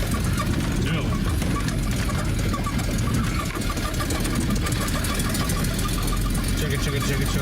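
A Peugeot 306 car engine runs with a rough, knocking, tractor-like idle, loud, close and steady throughout, while voices talk over it.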